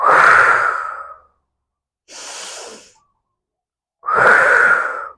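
A person breathes deeply through a balance exercise: two long, loud, airy exhales frame one softer breath in between, with silent pauses between them and no talking.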